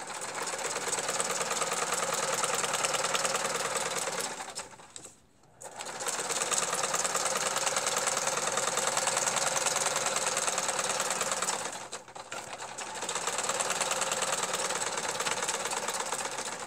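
A sewing machine stitches through a paper junk-journal page held with glue stick, running in a loud steady hum for several seconds, pausing briefly twice, then resuming.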